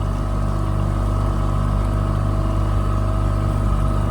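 A skiff's outboard motor runs at about half throttle, making a steady, loud, continuous engine drone close by with no change in pitch and no voices.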